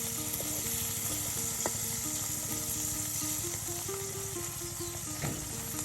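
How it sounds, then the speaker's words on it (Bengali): Onion, garlic and green chilli fry together in oil in a village kitchen, a continuous quiet sizzle with occasional stirring clicks, while a faint melodic tone plays in the background. "তেলের ভিতরে পেঁয়াজ, রসুন, তার সাথে আপনার কিছু পরিমাণে কাঁচামরিচ একসাথে ভেজে নেওয়া হচ্ছে"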